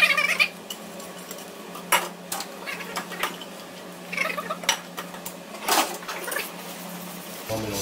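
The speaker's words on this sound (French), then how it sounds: "maintenant que le lait est bien bouillant là, comme ça, je vais incorporer mon roux légèrement refroidi dedans" A whisk clatters and scrapes around a pot as cooled roux is worked into boiling milk for a large-batch béchamel, with close, uneven metallic strokes and liquid churning throughout.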